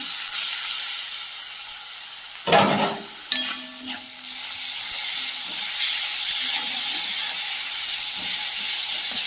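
Onion, ginger, garlic paste and green chilli fry in a pan, a steady broadband sizzle running throughout with a burst of stirring and spattering as ingredients are added, close and fairly loud, no talk.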